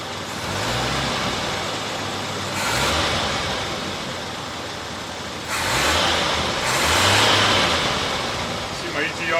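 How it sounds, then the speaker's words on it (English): A CJ Jeep with a 258 six-cylinder engine and Weber carburetor drives along, its engine humming and rising in pitch through gear changes under broadband road and wind noise, with someone talking at times. "So I'm going to drive around, warm it up"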